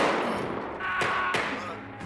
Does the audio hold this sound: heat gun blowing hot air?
no